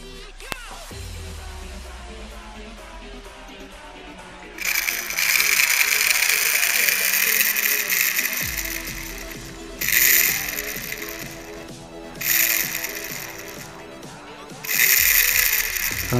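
A homemade toy car engine built from a pen refill is switched on for a test, giving bursts of rapid ratcheting, whirring mechanical buzz that start and stop several times, close and fairly loud, with a faint low hum between bursts.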